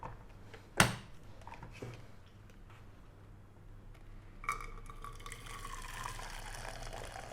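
Freshly boiled water poured from a Cosori GK172-01 glass electric kettle, a steady liquid stream rising after a couple of sharp clunks of handling, heard close with no talking.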